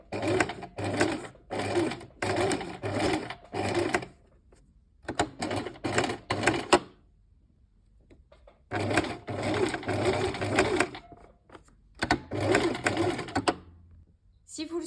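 A sewing machine stitches along the zipper of a beach swimsuit bag. It runs in several short, rattling bursts separated by quiet pauses, close and clear.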